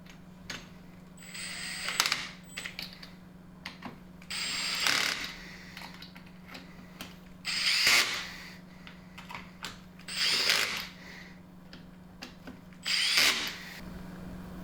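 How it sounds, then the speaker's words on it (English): Bolts tightened by hand tools and a power drill, with several bursts of whirring and ratcheting clicks separated by short pauses against a steady low hum; close and fairly loud, no talking. "now we can just go ahead and tighten them up"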